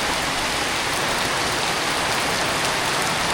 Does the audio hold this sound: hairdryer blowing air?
no